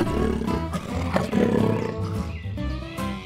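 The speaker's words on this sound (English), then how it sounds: "The lion family is restless in the cave." Deep, rumbling lion roars fill the whole stretch, loud and sustained with a couple of swelling peaks, several animals seemingly calling together up close.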